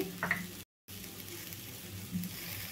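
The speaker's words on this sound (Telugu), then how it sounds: "హై ఫ్లేమ్లో ఒకసారి వేయించుకోవాలి" Chickpeas and grated coconut fry on a high flame with a soft, steady sizzle that carries a few faint stirring scrapes. The sound is heard close up and at low volume.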